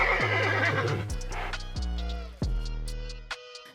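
Man-eating mares of Greek myth give a series of loud, close whinnies and neighs, with a few hoof clops between the calls and no voices.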